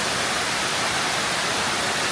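Floodwater rushes through a swollen creek about five feet deep after a heavy storm, a dense, steady broadband roar that fills the whole short stretch.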